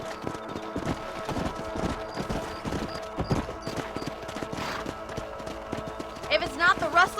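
Horse hooves clip-clop in a steady galloping rhythm as riders patrol a ranch property in the Red Dead Redemption video game, under spoken dialogue with a brief whinny near the end.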